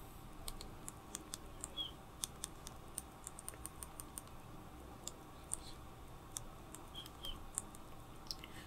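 Quiet, irregular clicking taps of fingers on a screen or keyboard, scattered through a soft background hiss.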